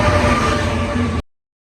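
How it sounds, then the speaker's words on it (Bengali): A train pulling into a station in Italy, a steady broadband rumble of rolling wheels and carriages with a faint tonal whine, loud and close, lasting about a second before cutting to silence. "এই যে ফাইনালি ট্রেন চলে আসলো"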